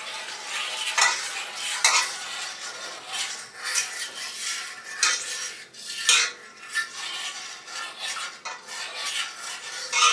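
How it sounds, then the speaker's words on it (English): A spoon stirs country sausage gravy around a pan, giving repeated close scraping and clinking strokes against the metal over a faint simmering sizzle, with no voices. "You gotta stir all over the pan. Make sure you get all of it."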